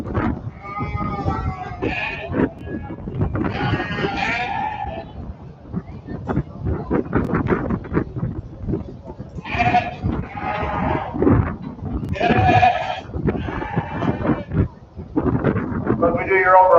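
Sheep, a set of four ewes at a livestock show, bleat repeatedly in short bursts that rise above a steady crowd murmur and voices throughout.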